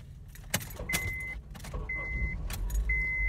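Inside a car, a low steady engine hum and road rumble fill the cabin while keys jangle and short electronic chimes beep repeatedly, fairly close and moderately loud.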